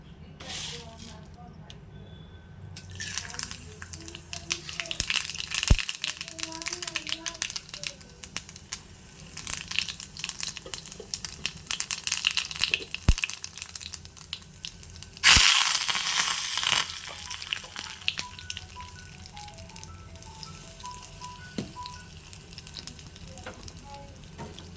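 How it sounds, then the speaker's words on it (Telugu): Spices tempered in hot oil for chukkakura (sorrel leaf) dal give a steady sizzle and crackle, flaring into a loud burst midway with a few sharp clinks. Faint talk runs underneath. "చుక్కకూర పప్పు మెదిపేసానండి, తాలిపేస్తున్నాను"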